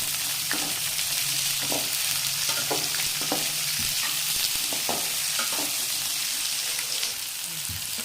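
Chopped medium onions sizzle and fry steadily in a hot pan for kurma, with occasional scraping stirs and clinks from a utensil, no talking.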